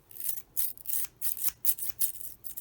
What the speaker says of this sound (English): Pair of scissors still work.